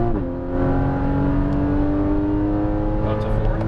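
A Porsche Cayman GTS pulls hard on a race track, its engine note rising steadily after a brief dip at the shift into third, loud and close from inside the cabin.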